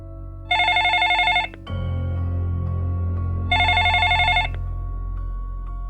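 A telephone rings twice in clear electronic bursts with a pause between, loud and close, as police dial a number during an investigation near an Australian beach.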